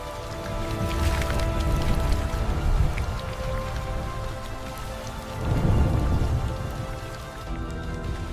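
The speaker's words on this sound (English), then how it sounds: "the first heavy drops of the seasonal rains begin to fall" Dense, steady seasonal rainfall patters across surfaces, with low rumbling swells rising and fading beneath it, like distant thunder in a storm.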